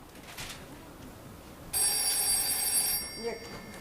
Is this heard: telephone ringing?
yes